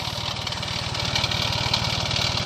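Same Frutteto 80 horsepower orchard-series 4WD tractor idling up close, a steady pulsing diesel rumble with rapid even firing beats, loud and alone with no talk.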